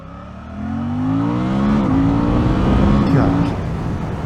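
Suzuki GSX-8R motorcycle engine under way, a loud close drone whose pitch climbs steadily through two gear shifts, each marked by a quick dip and recovery, over strong wind rumble.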